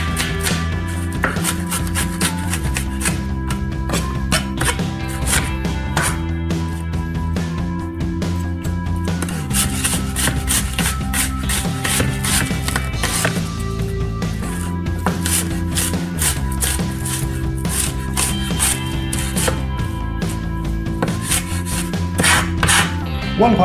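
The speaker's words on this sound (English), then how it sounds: "Just to slice the onion." Knife slicing an onion on a cutting board, rapid steady chopping strokes repeating close up for the whole stretch, with short pauses between runs and no talking.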